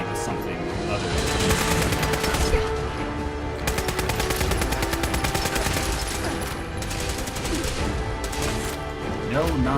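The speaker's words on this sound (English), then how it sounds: "Seriously, who the hell is shooting me with a gun? Like a legitimate gun." Gunfire from the video game Fallout 4 comes in rapid repeated bursts, with several loud volleys of shots and clattering impacts over steady game ambience, while a voice talks throughout.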